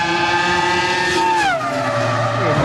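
A Formula One race car at speed, its high, screaming engine note holding steady and then dropping sharply in pitch as it passes, loud and close with no talk.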